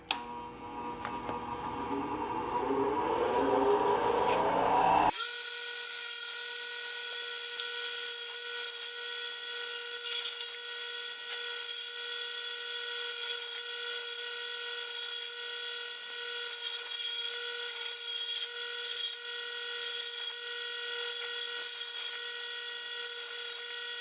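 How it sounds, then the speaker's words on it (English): Bench grinder sharpening a steel lawn mower blade: a short stretch of rough scraping, then a sustained high motor whine with grinding hiss and small bursts of contact noise throughout. "this is very similar to knife sharpening, just with a bench grinder here"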